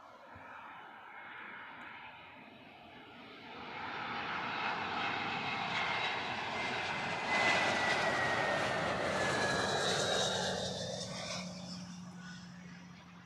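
A single-aisle passenger jet landing at Heathrow Airport produces a broad, steady roar that swells and stays loud through the middle before easing slightly, with no voices over it.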